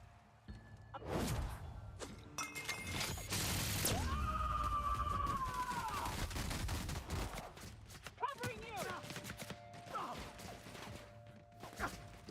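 Gunfire in The Outer Worlds: Peril on Gorgon, a loud burst of shots and whooshes early on, then scattered impacts and electronic effects, with voices talking over the action.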